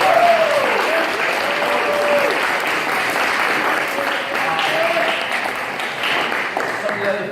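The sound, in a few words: applause from party audience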